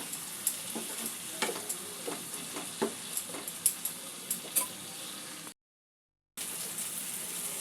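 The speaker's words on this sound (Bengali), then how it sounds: "আলু আর পটলটা মশলা দিয়ে একটু কষে নেব।" Fried potatoes and pointed gourd are stir-fried in spice paste, with a soft steady sizzle broken by rhythmic scraping and clacks of a spatula against the pan, then a short silent gap before the sizzling resumes.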